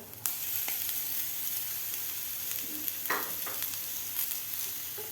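Tomatoes drop into frying masala with kasuri methi in a pan, an up-close steady sizzle broken by a few sharp clatters and stirring scrapes, with no one speaking.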